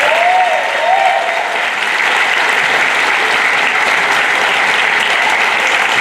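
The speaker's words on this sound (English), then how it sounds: "let's have a round of applause for our MC this weekend" A large audience at a fiddle competition applauds the MC with sustained, dense clapping that stays loud and even from start to finish, with no voice over it.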